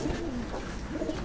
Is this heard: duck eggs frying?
no